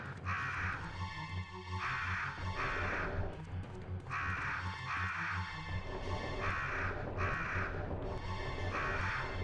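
Crows caw repeatedly in the PS1 survival-horror game Biohazard 1.5, harsh calls in rhythmic clusters over a dense, murky ambient background.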